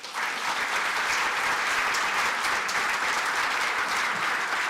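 An audience applauds after a poetry recital at a memorial celebration evening, a broad, continuous wash of clapping that holds steady from start to finish.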